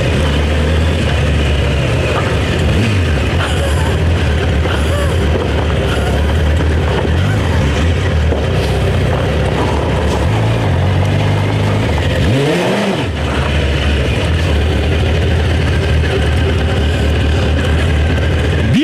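A loud, close Honda CBR1000F sport motorcycle engine roars and revs continuously, pulling away with a brief dip in pitch partway through as gears shift.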